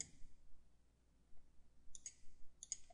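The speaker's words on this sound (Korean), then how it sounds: "라이트 클릭" Mouse clicks during 3D piping design work in CAD software, a few sharp isolated clicks alone over a quiet low hum.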